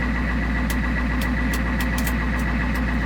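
An old diesel car, bought for $300 and left abandoned for over 20 years, runs while being driven: a steady, low engine drone throughout, with faint high ticks scattered over it.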